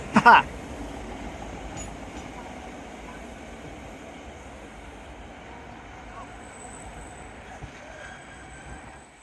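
A train rumbles past along a seafront seawall with a steady low roar of wheels on rails, a faint squeal rising briefly, heard from nearby outdoors without talking.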